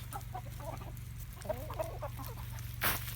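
A flock of Brahma chickens clucks in a short run of soft, irregular clucks close by, over a steady low hum, ending with a sharp brief noise.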